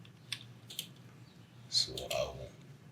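A computer keyboard being pressed during ArchiCAD 25 modelling work, with a few sharp, separate key clicks spaced over a few seconds against a quiet room background.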